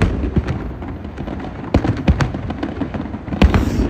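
Government-run fireworks display on a festive night, sharp bursts and booms popping irregularly from mid-distance, several loud cracks standing out over a steady crackling, rumbling background.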